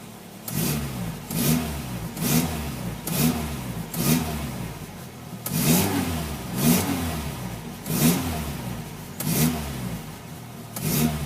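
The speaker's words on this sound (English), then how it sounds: "Very happy to rev wee engine." A Renault 17 TL car engine, with choke partly on, revs repeatedly up close, each burst rising and falling in a steady rhythm about once a second over a running idle.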